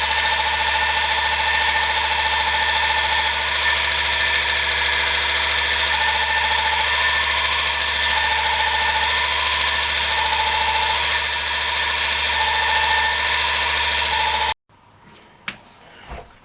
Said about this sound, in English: this little mini bench grinder, DC powered one